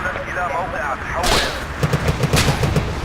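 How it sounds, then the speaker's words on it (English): Gunfire in the video game Battlefield Iraq: a run of evenly spaced shots, close and loud, sets in partway through after a sweeping burst of noise, with a voice speaking over the start. "Crap, they're actually firing on me."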